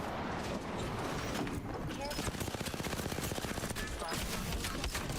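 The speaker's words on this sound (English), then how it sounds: "Oh, I'm getting sniped in the back too. I just got shot in the back." Rapid automatic gunfire in a shooter video game, rising into a dense, fast-repeating burst midway over busy game noise, with impacts and clatter continuing to the end.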